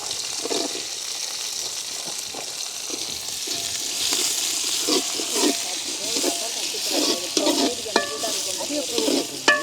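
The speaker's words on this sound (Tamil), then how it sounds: "இப்படி வெங்காயம் பச்சை மிளகா வதங்க இருக்கு" Onion and green chili sauté in a pan, giving a continuous close sizzle broken by repeated scraping stirs, with a person talking over the cooking.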